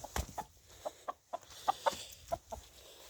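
A hen clucks in a steady series of short, separate notes, fairly close and moderately loud, in a quiet farmyard setting.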